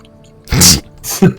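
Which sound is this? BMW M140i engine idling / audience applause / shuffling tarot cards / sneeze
sneeze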